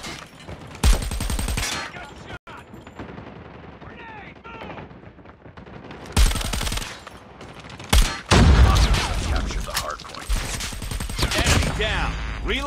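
Call of Duty gunfire in bursts of rapid automatic shots, loud and sharp, separated by quieter stretches with in-game voice callouts and footsteps.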